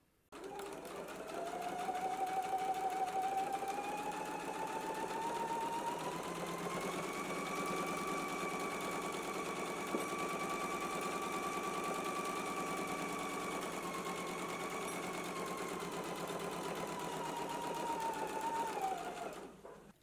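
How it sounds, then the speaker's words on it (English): A sewing machine runs one long continuous stitching pass along side and underarm seams, its whirring pitch rising as it speeds up, holding steady, then winding down near the end. "So let's go ahead and stitch our side seams and underarm seams in place now."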